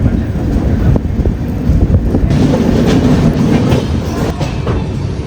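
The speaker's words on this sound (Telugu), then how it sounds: "ట్రైన్ రేణిగుంట జంక్షన్ కి అయితే వచ్చింది." Passenger train pulling into Renigunta junction, a loud, dense rumble with rhythmic wheel clatter and wind buffeting the microphone throughout, heard close up from on board without any talk.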